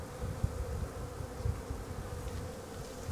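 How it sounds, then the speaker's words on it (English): A steady, dense buzzing of many bees feeding on bee pollen at a winter feeder, continuous and fairly close, with no talking. "Since the bees are down here feeding like crazy in the bee pollen I put in there"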